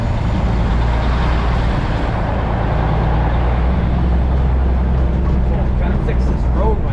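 A semi truck pulling out, a low, steady diesel engine rumble close by that holds throughout, with a voice talking over it.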